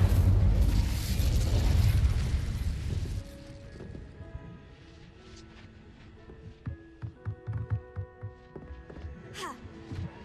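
The Incendio fire spell from the Hogwarts Legacy video game erupts in a loud, roaring blast that fades over a few seconds, followed by quieter scattered game clicks and thuds.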